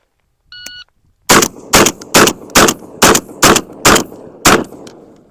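A shot-timer beep, then eight loud, closely spaced shotgun blasts from a Benelli M4 firing Winchester Ranger shells, each a sharp crack with a short ringing tail, fired in a quick steady rhythm.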